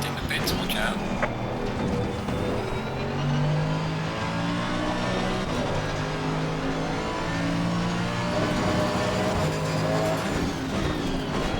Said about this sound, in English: The car is exiting the pits, watch out.